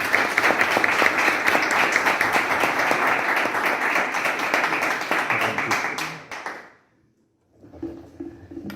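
An audience at a book presentation in Salamanca applauds warmly for an author, a dense burst of clapping lasting about six seconds before fading to silence, then a quiet voice begins speaking.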